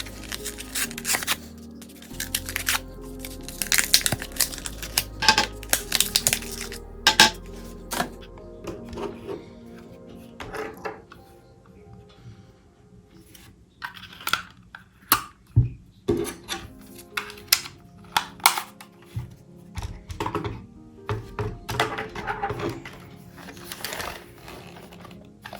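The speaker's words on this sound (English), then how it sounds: "Let's insert these batteries and see how the product is." Plastic clicks and rustling as batteries go into a Portronics KEY2 Combo wireless keyboard and mouse during unboxing, with close, irregular snaps and handling noises, no talking.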